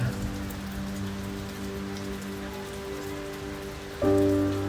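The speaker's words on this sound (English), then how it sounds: "The rain was forming in the distance." Steady rain falls in a continuous hiss in Jamaica, with a low droning hum underneath that grows a little louder near the end.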